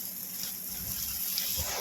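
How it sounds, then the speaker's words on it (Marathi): Water sprayed from a hose onto plants and soil in a farm plot, a steady broadband hiss of spray that runs continuously and fairly close throughout. "पाणी मारून राहिलं"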